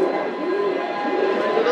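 Pigeons coo in a Giribaz pigeon loft, a steady low warbling hum close by with several birds overlapping continuously. No talk.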